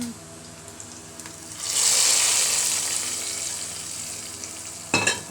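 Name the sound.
mustard seeds, curry leaves and chillies sizzling in hot ghee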